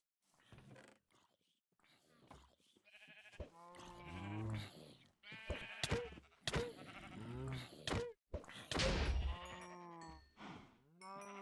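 Sheep in the Minecraft modpack GregTech: New Horizons bleating repeatedly, several loud wavering baas in quick succession with a few thumps between them, close by.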